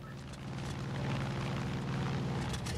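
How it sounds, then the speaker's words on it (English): A cult airplane in Far Cry 5 droning past, a steady, loud engine roar with a low rumbling tone that swells slightly and holds without a break. "Cult airplane chasing. Chasing a seaplane."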